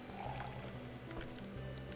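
Watering can pouring water onto crops in the Rune Factory 3 video game, a continuous splashing pour heard over a steady, dense game soundtrack with low sustained tones.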